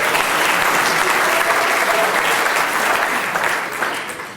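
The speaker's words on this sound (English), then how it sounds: "Give Mr. Brown one more round of applause." Audience at the 2016 SA Professional Services Awards ceremony breaks into loud, sustained applause, a thick, even roar of many hands that tapers slightly toward the end.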